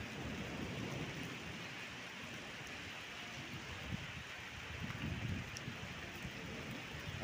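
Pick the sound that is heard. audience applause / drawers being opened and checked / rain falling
rain falling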